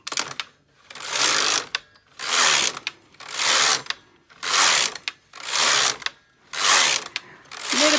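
A Brother KX-350 or Silver Reed LK 150 knitting machine carriage sweeps back and forth across rows. Each pass is a loud, raspy, whirring stroke, about seven of them in a steady rhythm with short pauses between.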